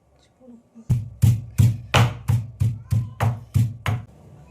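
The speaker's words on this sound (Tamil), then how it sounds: "சுட்ட மிளகாயும் போட்டு நுணுக்கிக்கணும்." Ten evenly spaced heavy pounding thuds of a pestle crushing roasted chillies and black pepper, loud and close with a short rhythmic beat.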